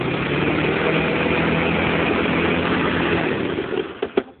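A lawnmower engine runs steadily after being restarted, revving a bit high, a loud continuous drone that then drops away into a few sharp knocks near the end.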